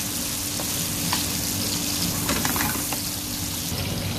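Sea bream fish fries in a pan with oil, giving a steady, dense sizzle that holds at an even level, close by, with faint clicks of stirring and no talk.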